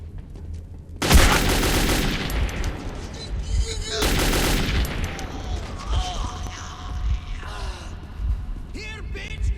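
Gunfire in Metro 2033, a loud burst of rapid shots followed by a second volley a few seconds later, with echoing tails, clattering debris and someone shouting and gasping amid the shooting.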